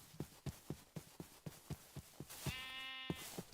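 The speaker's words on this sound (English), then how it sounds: "Sheep." Rhythmic regular footsteps thud in Minecraft during an atmospheric horror session, then a sheep bleats once, a near wavering call, before the steps continue.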